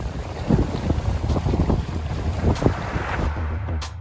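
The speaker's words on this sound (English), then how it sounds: "This is a lot of wind." Strong gusting wind buffets the microphone aboard a sailboat at sea off Norway, with rushing air and waves sloshing against the hull in a continuous roar.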